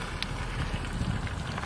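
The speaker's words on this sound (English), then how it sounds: "I think right over here it's still sizzling." A melted toy microwave, just heated inside a real microwave, gives off a steady close crackling sizzle with faint popping of bubbling plastic, continuous and fairly quiet.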